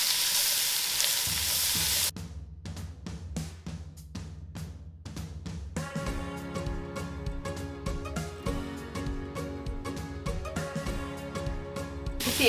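Cabbage and sausage fry in a hot pan, a steady close sizzle broken by clattering stirring and scraping, starting with a loud hiss that settles into softer crackling.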